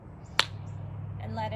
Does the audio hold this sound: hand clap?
yes